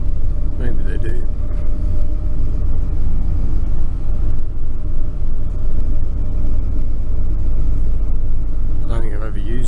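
Steady, loud engine rumble and road drone inside a packed bus travelling near Noi Bai, Hanoi, Vietnam, continuous throughout with faint brief rattles.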